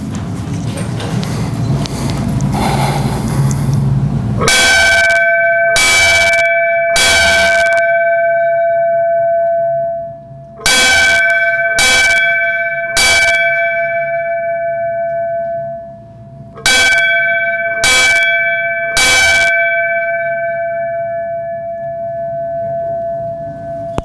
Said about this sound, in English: So we're gonna have a bell ceremony for them.